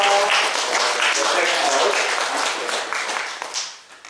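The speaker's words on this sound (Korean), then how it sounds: "우리 박수로 한번 격려하라" Church congregation applause fills the room, a dense wash of many hands clapping that swells and then tapers off near the end, with voices mixed in.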